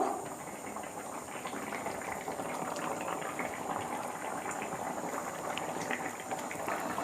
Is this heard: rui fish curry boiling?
yes